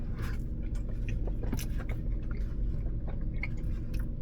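Someone chews a bite of a Taco Casa enchilada filled with finely ground beef and nacho cheese sauce, soft wet mouth sounds close up over a steady low rumble, as if inside a car.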